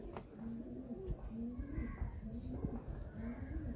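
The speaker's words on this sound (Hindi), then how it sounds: "ये इमाम दीन गोल्डन कबूतर है इनका," A golden pigeon gives a series of steady, repeated coos up close, with low background noise and occasional faint rustles.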